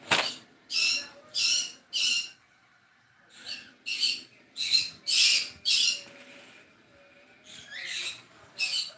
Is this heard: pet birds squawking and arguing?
yes